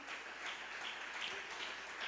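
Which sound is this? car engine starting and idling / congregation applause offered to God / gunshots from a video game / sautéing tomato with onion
congregation applause offered to God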